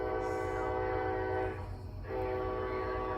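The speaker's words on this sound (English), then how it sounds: "It sounds like the train's going northbound." A passing train heading northbound rumbles steadily with strong tonal horn-like bands, briefly dipping in level midway before returning, loud and close with no talk.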